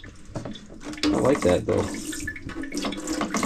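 Water runs from a faucet at a sailboat's sink, a loud splashing gush that surges and shifts under a man's brief speech.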